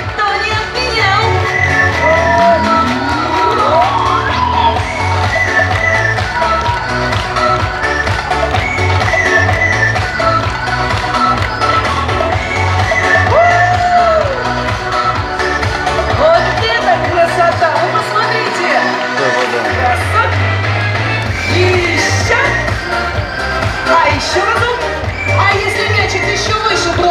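An audience at a dolphinarium show cheers and shouts loudly in a sustained crowd roar over nearly half a minute, with a brief lull partway through and excited voices and whistles mixed in.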